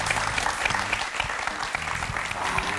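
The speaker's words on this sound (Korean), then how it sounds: "앞으로의 행복을 위해서 큰 박수 한번" Loud, sustained applause from a crowd, dense clapping continuing evenly from start to finish.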